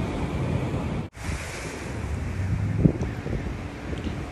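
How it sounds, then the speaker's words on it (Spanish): Sea waves wash onto the shore during a fishing outing, a soft, continuous surf rush mixed with wind buffeting the microphone, fairly faint and steady throughout. "Espero que aquí no me vaya a bañar el mar."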